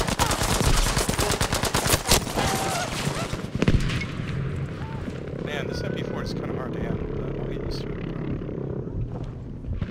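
Submachine gun fire from an MP40 during a Battlefield V Conquest match on the Fjell 652 map, heard as rapid close bursts in the first few seconds and then dense, sustained battle noise with more distant shots.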